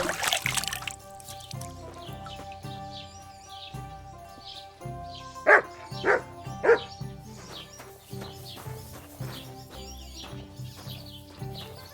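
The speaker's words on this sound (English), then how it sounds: "You silly doggy." A dog in Kingdom Come: Deliverance II barks three short, sharp times in quick succession amid ambient outdoor game sounds with faint birdsong.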